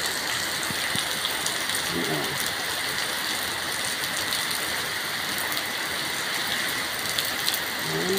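Rain falls steadily on a garden of potted plants and onions, a dense even hiss throughout with faint brief sounds of movement in the foreground.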